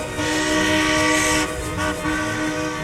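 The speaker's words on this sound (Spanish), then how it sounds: "los maquinistas suenan el silbato en son de burla" A steam locomotive whistle from a Mexican Revolution-era railway sounds one long, loud, harmonic blast, then a softer continuing tone with a brief dip and swell.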